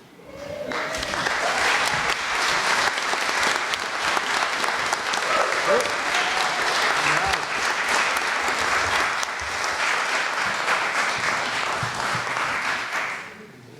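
Long, sustained applause fills a hall at a special town meeting in Plympton after a unanimous vote, dense clapping with scattered voices and cheers underneath, continuing steadily for nearly fourteen seconds.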